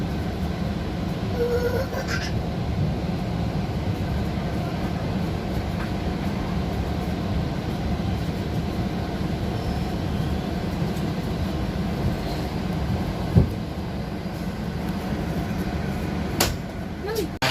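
The Tirupati–Lingampalli passenger train rolls past at an Indian railway station, making a continuous loud rumble and clatter of wagons throughout, with a couple of sharp metallic clanks near the end.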